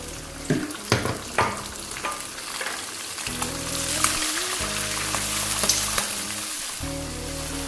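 Peas frying with light-browned onions in a pan, with a few scraping stirs at first, then a continuous crackling hiss under a steady background hum.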